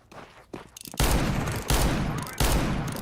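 Counter-Strike gunfire in a Vitality versus NAVI grand-final match at BLAST Open Rotterdam: after a second of quiet, low activity, three loud, close bursts of rapid shots land at steady intervals.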